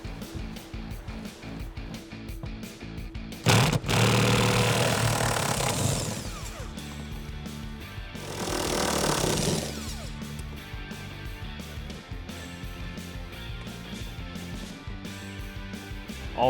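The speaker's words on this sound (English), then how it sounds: "using my 18mm socket on my impact gun. I'm gonna remove the 2 bolts that secure these 2 legs down" An impact gun fitted with an 18mm socket zips out the bolts holding a 2018 four-door Jeep Wrangler JL rear seat's legs, with two loud rattling bursts about four seconds apart over quiet background noise.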